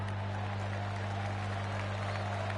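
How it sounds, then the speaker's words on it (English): A video-game crowd in PGA Tour 2K25 gives a golf clap at a golf course, a brief steady smattering of applause over a constant low hum, with faint commentary underneath. "That deserves a golf clap."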